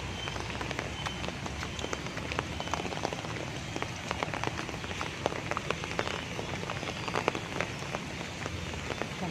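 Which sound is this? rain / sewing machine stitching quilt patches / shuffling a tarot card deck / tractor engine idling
rain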